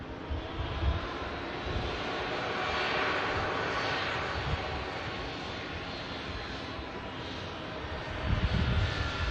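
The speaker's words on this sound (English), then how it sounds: "Turkish Airlines A321 though just landed. Pratt & Whitney engines." A Turkish Airlines Airbus A321 with Pratt & Whitney engines lands at Manchester Airport, its broad engine roar steady and loud throughout, swelling slightly toward the end.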